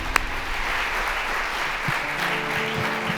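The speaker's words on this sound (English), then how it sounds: "let's give her a round of applause" An audience at the Inclusive Africa 2026 conference applauds a keynote speaker. The clapping is a dense, sustained, even wash of many hands with no talk over it.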